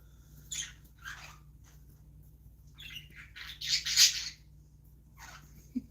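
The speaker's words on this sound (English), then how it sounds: "listen all day to the birds just chirping and singing" Small birds chirp and squeak in scattered bursts over a quiet low hum, a cluster of busier calls near the end.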